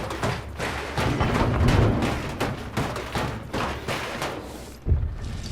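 Rapid bursts of gunfire crackle and thump in a Hunt: Showdown firefight, shots overlapping in a dense, continuous volley with a heavier boom near the end.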